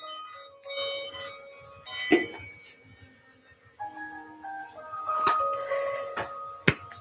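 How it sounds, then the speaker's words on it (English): Ritual bell rung during a witchcraft spell, several clear metallic strikes with long ringing tones that overlap and fade, close and moderately loud in a quiet space. "Our bell activates our spell."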